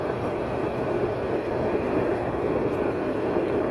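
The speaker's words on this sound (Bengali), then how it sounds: "সায়েদাবাদ যাত্রাবাড়ি এলাকা অতিক্রম করে যাচ্ছে এই নারায়ণগঞ্জ কমিউটার ট্রেনটি" A Narayanganj commuter train rolls through the Sayedabad–Jatrabari area of Dhaka with a steady, dense rumble of wheels and cars passing close by, no voices.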